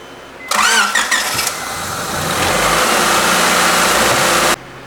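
Ford EF sedan engine cranking with the starter whine, catching and settling into a loud, steady warm-up idle close by, with a slight rise in level midway before the sound ends abruptly.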